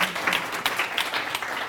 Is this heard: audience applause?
yes